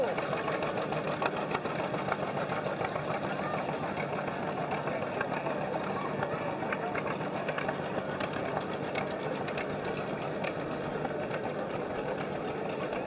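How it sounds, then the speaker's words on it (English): Tractors in red Massey Ferguson and International colors puttering along in a Veterans Day parade, a steady rapid engine chug that stays close and constant throughout, with no pauses. "I love that putter that these tractors make."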